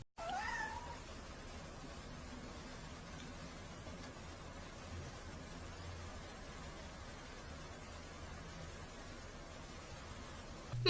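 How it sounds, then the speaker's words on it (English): A cat meows a few times near the start of a played cat video, followed by a long stretch of faint, steady background hiss with a brief louder sound at the very end. "But first, a cat video."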